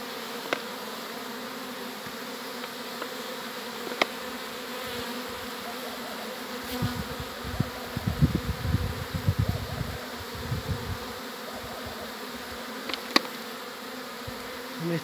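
A honeybee swarm hums as a dense, continuous buzz throughout, with scattered clicks and brief low thumps near the middle, and no voices.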